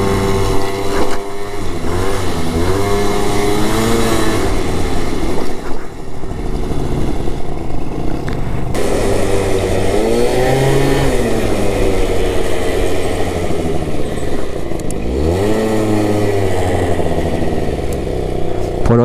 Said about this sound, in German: mein Roller dreht wieder so scheißen hoch